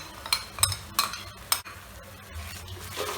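Shahi paneer gravy with yogurt being stirred in a pan, a spoon giving several sharp clinks and scrapes against the metal in the first half, then softer steady stirring over a low sizzle, close by, no talking.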